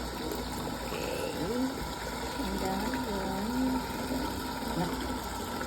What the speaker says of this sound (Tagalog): magpabutang tubig diha sa bathtub.